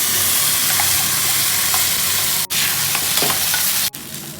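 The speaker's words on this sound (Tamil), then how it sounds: "ஸ்டவ் ஆஃப் பண்ணிவிட்டு இந்த சட்னி எடுத்து ஊற்றிக்கலாம்." Ground coriander chutney poured into a hot tempering of mustard seeds and curry leaves gives a steady, loud, close sizzle and crackle of frying. The hiss holds throughout with two brief dips.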